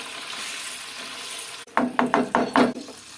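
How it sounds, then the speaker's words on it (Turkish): A pot of rice pilaf being stirred for an oven-baked stuffed chicken dish, heard as about five quick, rhythmic scraping strokes of a spoon through wet rice, close and fairly loud after a simmering hiss. "Böyle karıştıralım."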